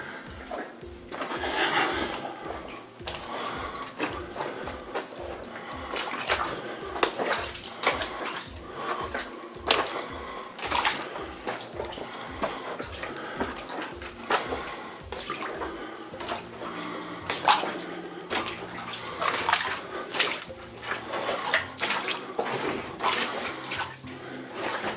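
Someone wades through water in a flooded mine, making steady sloshing and splashing that echoes in the enclosed space, with a regular low rhythmic thumping running underneath.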